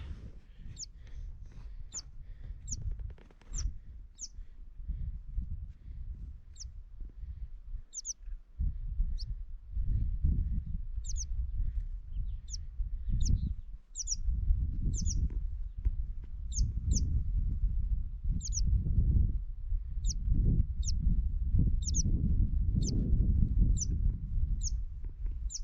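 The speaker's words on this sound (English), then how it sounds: "I've got a little bird here faking an injury." A small bird near its nest in the High Uintas mountains gives repeated short, sharp chirps at irregular intervals, fairly close, over a steady low rumble of wind or movement.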